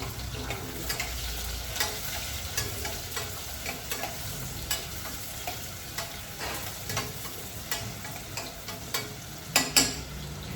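Chopped onion fries in a pan over low heat, giving a steady, fairly quiet sizzle broken by regular light scraping and clicking stirring strokes, with a couple of louder clatters near the end.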